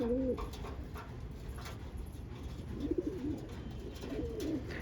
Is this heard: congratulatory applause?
no